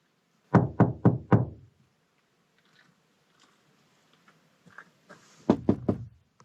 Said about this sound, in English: awoken in the middle of the night by loud knocking on his van